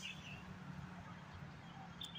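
Faint, high chirps from a bird on a tree branch beside a highway sound twice against a steady background hum, distant and brief.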